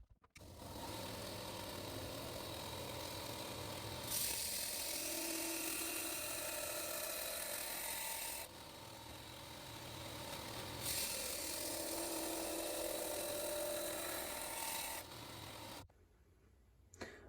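A belt grinder runs steadily and loudly, grinding the initial 45-degree bevels into a knife blank made from a Nicholson file, with a continuous abrasive roar that shifts slightly in pitch as pressure changes, then cuts off at the end.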